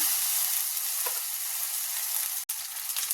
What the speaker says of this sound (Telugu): ఇప్పుడు కడిగి పెట్టుకున్న చికెన్ వేసుకున్నా